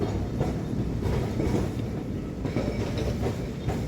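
A Kolkata tram runs on street rails between Shyambazar and Esplanade, making a continuous loud rumble with rhythmic clickety-clack from the wheels and no voices.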